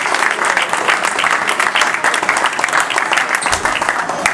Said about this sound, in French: vous allez très chaleureusement applaudir l'Union Rennes Basket 35 pour cette très belle victoire